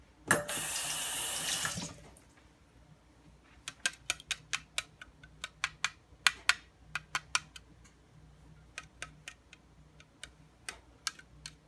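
Water from a kitchen tap runs hard for a couple of seconds while hands are washed during meatloaf prep, then stops, followed by scattered close drips and small clicks at the sink.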